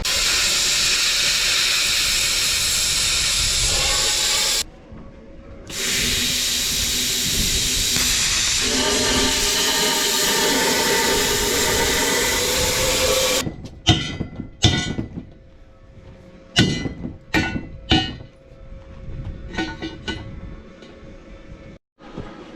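A Cut 50 plasma cutter slices metal for a lambing barn with a loud, steady, close hiss that breaks briefly and then resumes. It ends in scattered sharp knocks and clanks of metal being handled.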